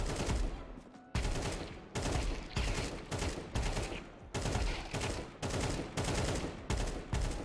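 Short bursts of rifle fire in the video game Counter-Strike 2, repeated in quick groups of several shots with brief pauses between, loud and sharp throughout.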